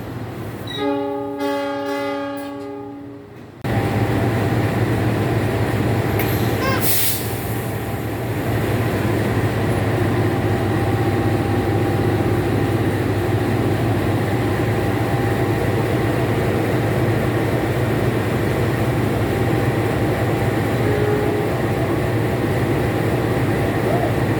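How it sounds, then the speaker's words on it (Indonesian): Kamandaka diesel locomotive idles with a loud, steady engine rumble close by, opening with a sustained horn blast before the low drone settles in and continues evenly. "Ini dia lokomotif dinas kereta api Kamandaka sudah siap untuk kembali disambungkan dengan rangkaian kereta."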